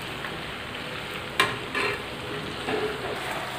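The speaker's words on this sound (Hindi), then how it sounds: "इसको हम इसी तरह से चलाते हुए पकाएंगे, इससे हमारा नीचे चिपकेगा नहीं।" A mango and ginger pickle mixture fries in a pan as it is stirred, a continuous crackling sizzle broken by a few sharper scrape-and-thud accents from the spoon, with no talking.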